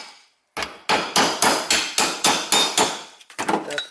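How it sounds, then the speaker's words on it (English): A hammer taps parts into place during final engine assembly with about ten sharp, evenly spaced metallic blows, loud and close, followed by a quicker cluster of lighter taps. There is no talking. "carefully I can use my hammer when I install"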